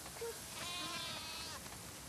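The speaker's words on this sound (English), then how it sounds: "Wow, that's a lot of sheep." Sheep bleating on a farm in The Last of Us Part II, a single drawn-out wavering bleat that rises and falls, fairly close and clear over quiet game ambience.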